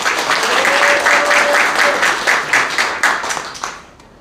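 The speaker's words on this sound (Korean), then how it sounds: "종로구청 박수 한번 쳐주세요." Close, loud applause from a crowd at a campaign launch for the Jongno district head race in Seoul, with rhythmic clapping that thins out and fades over about four seconds.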